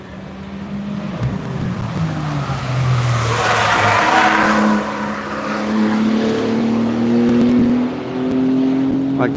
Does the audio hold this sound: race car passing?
yes